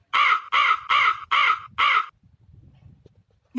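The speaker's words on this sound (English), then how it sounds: "Hooded crow." A hooded crow gives five loud, close caws in a steady rhythm, alone against faint low background noise, and a sixth call starts just at the end.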